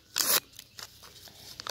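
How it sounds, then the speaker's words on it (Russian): Paper surprise packet torn open with one loud crinkling rip at the start, then scattered softer rustles and crackles of paper, close and alone. "Итак, открываю пакетик."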